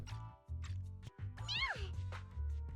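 Nekomata, a cat-like character in Zenless Zone Zero, lets out a short, clear meow in the middle of game music and effects, with a voice speaking around it.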